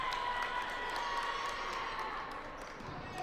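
A capacity crowd at a Saturday night futsal game between Detroit and Lansing fills the arena with a steady, distant roar of cheering and noise that holds evenly throughout.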